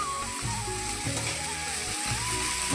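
Steady, loud sizzling of papaya frying with whole cumin seeds in a hot kadai, a continuous crackling hiss with a low background hum.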